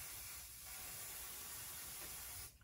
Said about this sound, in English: I'm going to spray some temporary adhesive here again